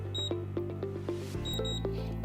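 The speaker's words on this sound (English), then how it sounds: "hold down the number 1 until you hear a double beep" Pulse 2 electronic door lock keypad giving short electronic beeps, several quick tones including a double beep, close and clear over a low steady hum.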